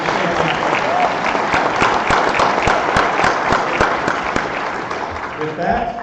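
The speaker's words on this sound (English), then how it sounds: "So please give Denise a round of applause." An audience at a GOP meeting claps steadily, a dense wash of applause that holds for several seconds before thinning slightly at the end.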